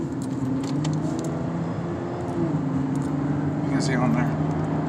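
A 2011 Camaro LS, freshly serviced with an oil change and fuel and intake work, drives along a road at around 45 to 50 mph, its steady engine drone and road noise running beneath someone talking throughout.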